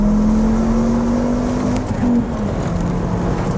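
A Volvo C30 T5 pulling hard down a straightaway, its engine note climbing steadily in a loud, close droning rev before easing briefly near the end, with continuous road and wind roar beneath.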